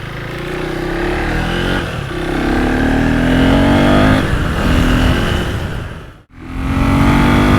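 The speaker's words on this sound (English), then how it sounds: "It is awesome being back on a motorcycle, something new, unusual to me, riding and testing." Husqvarna Svartpilen motorcycle, 401 or 801, accelerating hard through the gears, its engine note rising and dropping with each shift and a brief cut near the end before pulling again, loud and close throughout.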